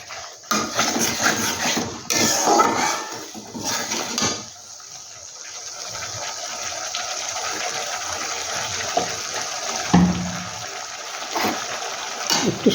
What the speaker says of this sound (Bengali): একটু সামান্য জল দিয়ে দিচ্ছি।